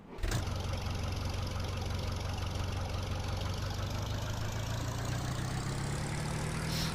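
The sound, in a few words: small tractor engine idling in video game Farming Simulator 2013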